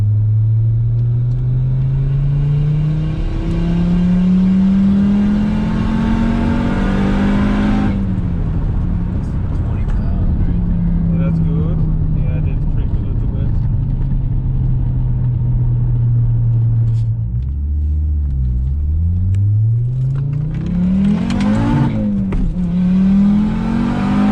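An Audi UrS6 C4 with an AAN engine, big turbo upgrade and VEMS ECU accelerates at full throttle on the street, its engine droning and rising in pitch through the gears with a loud, continuous rumble close by.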